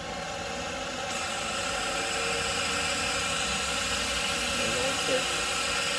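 An LS-swap driveshaft spins on a balancing machine, making a steady, loud mechanical whir with a low hum that rises slightly after the first second and holds evenly to the end.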